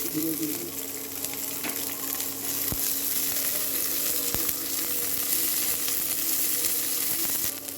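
Shredded cabbage and green chilies fry in a pan with a dense, even sizzle that holds steady throughout, broken by a few faint clinks of stirring, heard close and without speech.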